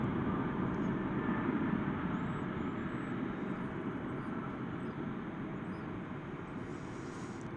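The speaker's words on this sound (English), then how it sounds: "That's an Airbus A321neo. You'll see it go by in the picture here" An Airbus A321neo airliner passes at DFW Airport as a steady, broad jet roar holding even loudness throughout, with no voices.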